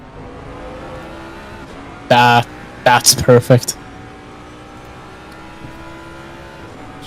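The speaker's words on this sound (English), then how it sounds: "Just listen to that roar of that Mustang engine." In Assetto Corsa Competizione, a Mustang GT3 race car lets out a couple of short, loud engine roars and revs over a low steady drone, with a brief spoken remark nearby.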